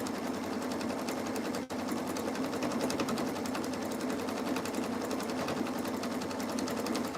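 A sewing machine stitches dish drying mats in a continuous fast mechanical whir with rapid needle clatter, close and steady, pausing for only a split second.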